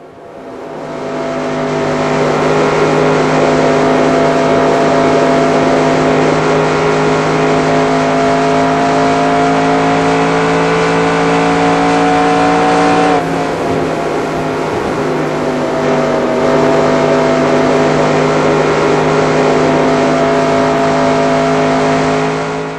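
A race car's engine roars continuously through a lap of Texas Motor Speedway in the racing game NR2002, loud and close, holding a steady high pitch with one abrupt shift partway through, no talking.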